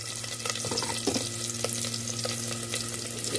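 Garlic and onion frying in a pan for beef kaldereta, a steady close sizzle with faint scattered crackles and light scraping throughout, no voices.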